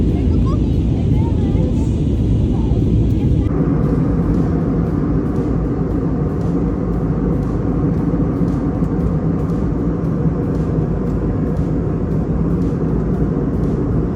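Airliner cabin during flight on a journey from Saudi Arabia to India, a loud steady engine roar and rumble filling the whole stretch, with a slight shift in tone early on.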